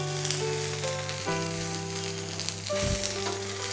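Adai dosa frying in oil on a pan, a soft continuous sizzle with light crackling that sits under steady tonal background music or hum throughout.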